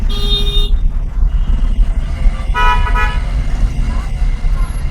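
A car horn toots briefly amid loud engine and road noise, with another short honk a few seconds later.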